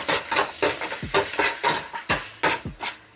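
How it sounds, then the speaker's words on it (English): An egg frying in a hot, oiled wok while making shrimp fried rice: a rhythmic run of spatula strokes scraping and clacking against the metal over a steady sizzle, about eight close, fairly loud strokes with no talking. "So I'm gonna go back, put my egg in."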